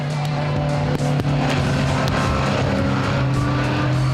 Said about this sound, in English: Rowan Theron in the orange and green Porsche 914 leads Willem Brits in the white Porsche 924.